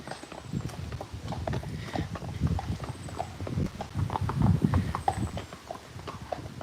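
Horses walk past at a steady pace beneath trees amid greenery, their hooves clip-clopping in a continuous, fairly close rhythm with no talk over them.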